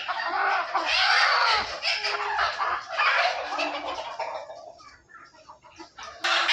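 A rooster crows loudly nearby, followed by clucking from several chickens of a desi village breed, with no one talking.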